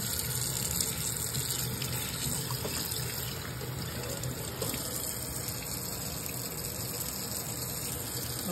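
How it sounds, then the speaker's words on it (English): Steak meat is rinsed under a running kitchen tap, a steady continuous rush of water that holds evenly throughout, close by with no voices. "I'm gonna rinse one at a time. Rinse my meat off."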